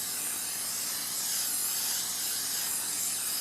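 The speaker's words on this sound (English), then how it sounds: "I will spray my pan" A steady, continuous hiss of commercial cooking spray onto a baking pan, held for a few seconds at close range with no talking.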